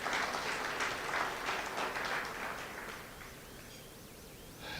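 Audience at the National Teaching Awards giving a round of applause, a broad burst of many hands clapping that gradually thins and fades over a few seconds.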